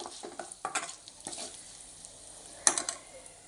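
Mustard seeds fry in hot oil for a Kerala sambar tempering, crackling and popping in scattered sharp bursts over a low sizzle, fairly quiet and close.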